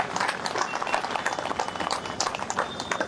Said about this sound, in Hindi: जोरदार तालियां इनके लिए बजाइए।